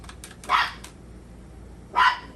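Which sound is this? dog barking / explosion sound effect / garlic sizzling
dog barking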